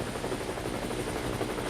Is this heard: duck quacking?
no